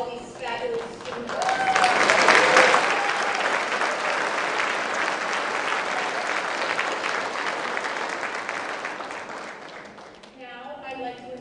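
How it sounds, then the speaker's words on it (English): Loud, sustained audience applause for students at a Rotary Club of Denver luncheon program, swelling early and holding steady before tapering near the end, with a voice briefly heard as it fades. "Let's have one more round of applause for all these fabulous students."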